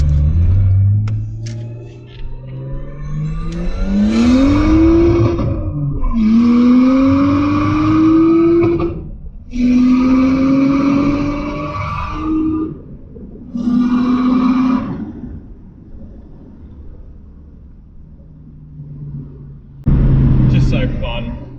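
An RB25DET-swapped R32 Nissan Skyline's engine revs hard in first gear through several rising pulls with short breaks between them, loud and close, ending with a brief rumble.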